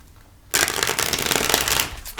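A deck of tarot cards is shuffled close up after a quiet moment, giving a dense, crisp riffling flutter for nearly two seconds that ends with a brief snap.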